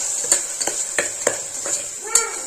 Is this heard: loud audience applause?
no